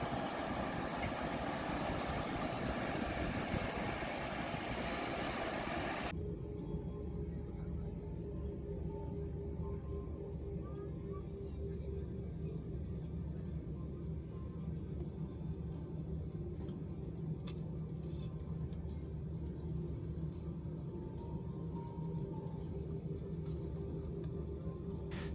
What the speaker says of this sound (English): This video shows our taxi and takeoff from San Cristóbal Airport, located on the island of San Cristóbal in the Galápagos Islands in Ecuador.